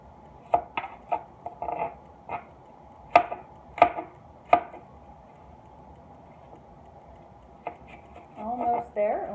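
Knife slices on a cutting board while cooking, a scattered series of sharp, clean taps with pauses between, close by and fairly quiet, with a voice talking near the end.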